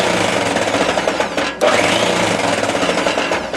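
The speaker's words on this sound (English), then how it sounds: "We're going to run the hopper." Motor driving the hopper of an automated stove, a loud rapid mechanical rattling hum that runs continuously, briefly dipping for a moment midway before resuming.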